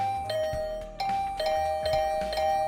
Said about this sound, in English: Getting the hint that this assault on my doorbell would continue until I answered